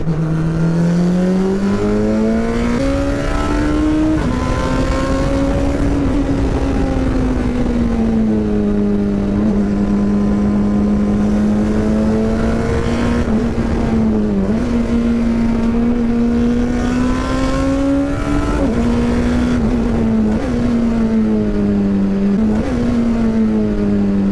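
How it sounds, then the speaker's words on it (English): A race car engine drones loudly and steadily throughout, its pitch climbing and then holding as another race car passes on a straight, with brief dips and rises as the revs shift. "I'll have David pass me on this next straight."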